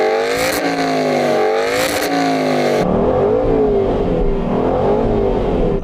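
An Aston Martin 4.7 V8 engine revs hard and loud, its pitch rising and falling in repeated throttle blips, then settling into a rough, rumbling idle with more revs.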